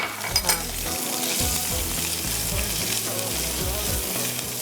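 Garlic, chopped beans and chopped green olives frying in butter in a pan, a steady close sizzle with occasional stirring scrapes, no talk over it.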